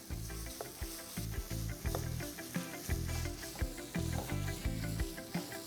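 Shredded boneless chicken breast sizzles and is stir-fried in a pan for an Indo-Chinese chicken Manchow soup, with a constant sizzle broken by rhythmic scraping stirs, close and with no talking.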